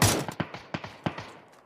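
Gunfire in the battle royale game PUBG during a Tianming Cup grand finals esports match: a loud opening blast followed by a series of sharp, evenly spaced shots ringing out, each trailing into a short echo.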